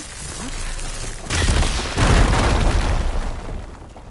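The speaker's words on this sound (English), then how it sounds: "Explosion." Game explosion in Horizon Forbidden West: a sudden loud burst with a rumbling, crackling tail that swells again and rolls on for a few seconds before fading, with no talk over it.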